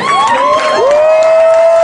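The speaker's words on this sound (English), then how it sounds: "Let's give a big round of applause for those contestants that just did not make it this time." An audience cheers for rodeo contestants, a loud, steady wash of crowd noise with a sustained high whoop over it, brief and continuous.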